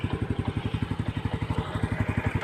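A Honda Dream 125 motorcycle's single-cylinder engine runs smoothly at a steady idle, close up, with a fast, even putt-putt pulse and no talk.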